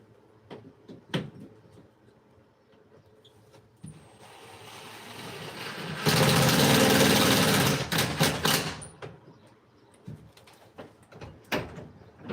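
A house door in a fixer-upper remodel being opened and shut after a new striker plate is fitted; scattered knocks and thumps, then a long loud rushing swell in the middle, followed by several sharp latch clicks and clunks.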